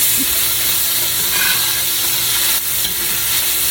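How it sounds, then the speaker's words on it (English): Onions and cayenne pepper frying in a pan while being stirred, giving a steady loud sizzle and hiss with occasional scrapes of the utensil. "I'm going to stir up that cayenne pepper in here with the onions"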